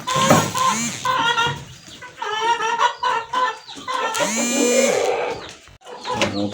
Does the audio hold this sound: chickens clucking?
yes